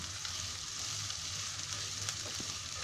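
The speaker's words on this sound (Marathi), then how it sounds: "गॅस आता फास्ट केला आहे, म्हणजे का कांदा लवकर भाजेल म्हणून." Onion frying in a pan over a high gas flame while making homemade vegetable pulav, giving a soft, continuous sizzle with light crackles and a faint low burner hum, fairly quiet and steady.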